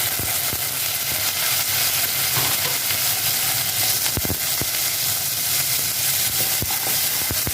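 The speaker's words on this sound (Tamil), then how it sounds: "ஒரே நிமிஷம் தான் நல்லா வெங்காயம் வதங்கணும்" Onions and tomatoes for capsicum sambar sizzle and fry in a pan, a loud, constant hiss broken by occasional stirring clicks.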